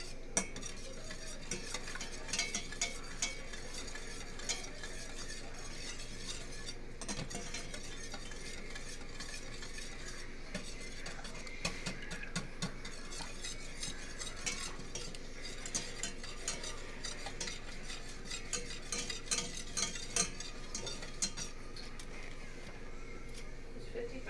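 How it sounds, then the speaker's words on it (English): A thickening cheese sauce for bacon mac and cheese is whisked steadily in a pan, a continuous close scraping and swishing with small metallic clicks scattered throughout. "We're just going to keep whisking this,"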